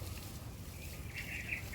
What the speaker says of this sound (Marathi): हे चिव चिव चिव चिव आवाज किती छान वाटतात नाही